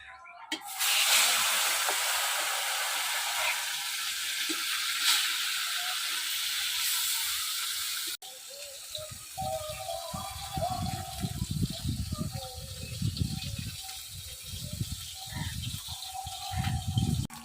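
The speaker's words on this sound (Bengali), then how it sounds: "সম্পূর্ণ মাছ এবার ভেজে নেব।" Whole fish sizzles as it fries in hot oil for a Bengali fish curry, a steady loud hiss with crackling spatter that settles into a quieter, bubbling fry partway through.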